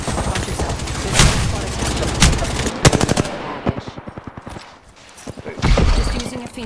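Rapid bursts of automatic gunfire in the video game Apex Legends, loud close volleys with sharp individual shots and booms, pausing briefly before another burst.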